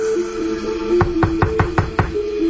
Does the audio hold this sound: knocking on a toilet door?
yes